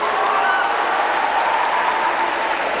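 A seated audience claps steadily throughout, a dense, even wash of applause at constant loudness with no pauses.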